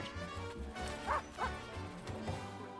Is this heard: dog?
yes